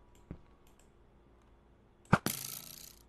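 A bow or crossbow loosed at a villager in Minecraft: a soft click early on, then a sharp snap near the end followed by a brief hissing release, fairly close with no talk.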